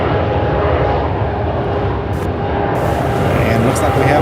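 An airplane taking off at Charlotte Douglas airport, a loud continuous engine roar filling the whole stretch, steady and broad.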